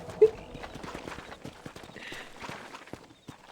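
Horse hooves clip-clop at a steady trot in Red Dead Redemption, close and fairly loud, with soft background ambience.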